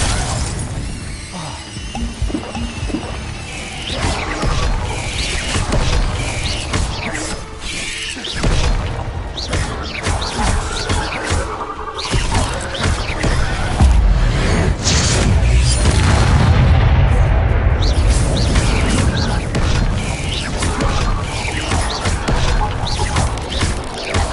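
Fire spell bursts cast again and again in the Hogwarts Legacy video game, a dense, loud run of whooshing blasts, crackles and shattering crashes that carries on without a break.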